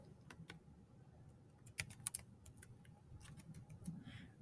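Light tapping on a computer keyboard, scattered keystrokes with a few brief quick runs, faint and close in a quiet room.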